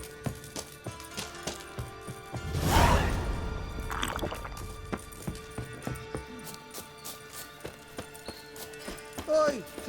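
Horse hooves in The Witcher 3 video game: a steady, regular clip-clop of hoofbeats close by throughout, with a louder splashing or rushing burst early on and voices talking over it.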